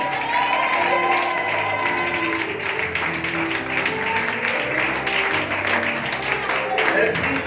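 A church congregation claps and cheers continuously, a dense wash of applause with voices mixed in throughout.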